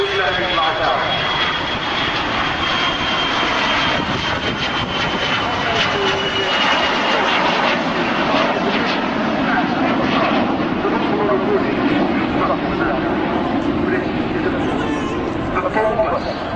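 Two-seat de Havilland Vampire jet coming in to land at Southend Airshow, a steady, loud broad engine roar sustained throughout with a crowd murmuring in the background.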